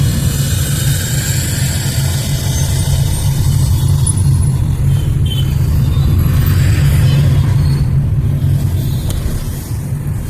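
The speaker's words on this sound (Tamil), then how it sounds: "அந்த 1180 NE சவுண்டும் அந்த சிவிக்கோட சவுண்டும் ரெண்டும் ஒரே மாதிரி இருக்குங்க." A classic Fiat 118 NE truck runs under full load with its engine note unmodified. It gives a loud, steady, low rumble that fills the whole clip.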